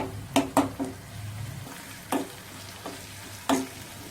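Onions and garlic paste fry in a pan while a spoon stirs them, sharp scraping knocks against the pan arriving at irregular intervals over a low, steady sizzle, heard up close without speech.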